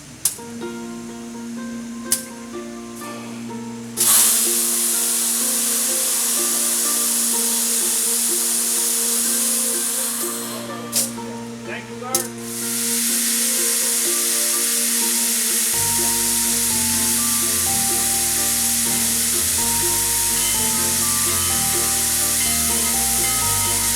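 Steam locomotive 4501, back in steam after 16 years, vents a loud, continuous roaring hiss at close range, with brief pauses and surges and a low rumbling undertone that shifts partway through.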